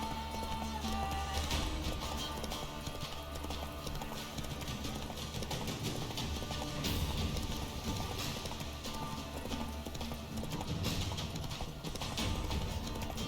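A horse gallops in The Witcher 3 with steady rhythmic hoofbeats close by, mixed with game ambience and occasional whinnies throughout.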